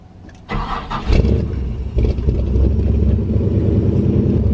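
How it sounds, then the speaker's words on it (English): A K30 truck's engine cranks briefly and catches, then settles into a loud, steady, rumbling idle close by, with no one speaking. "We'll fire it up one time here to get the full alternator voltage."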